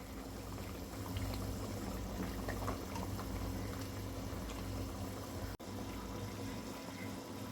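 Crab curry gravy simmers in a pan with steady bubbling and faint popping throughout, plus one brief click near the end.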